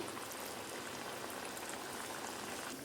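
Appalu, sweet Telugu fried dough cakes, frying in hot oil over a low flame, a steady dense crackle and bubbling sizzle that continues close up without pause.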